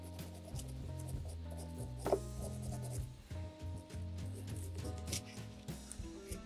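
Hand scrubbing over a surface, rubbing and pressing harder to lift grime, with close, continuous scraping strokes and one brief louder scuff.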